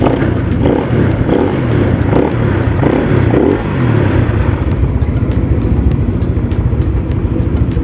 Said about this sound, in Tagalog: Maingay pa yung throttle body. Yung pipe hindi halos marinig.